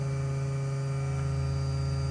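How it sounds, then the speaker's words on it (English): Auxiliary vacuum pump in a Mooney M20J airplane, a steady electric hum with a constant tonal drone and faint buzz, continuous and close, no talk. "you do have an aux pump for the vacuum, so we're bringing that up now."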